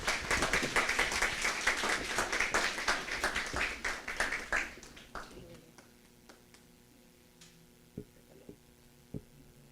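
An audience at a conference talk applauds, a dense burst of many hands clapping that thins out around the fifth second into a few scattered claps and then quiet room hum.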